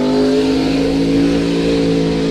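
A car revs hard in a loud, sustained drone that holds a steady pitch with no gear changes, close by and with no talk.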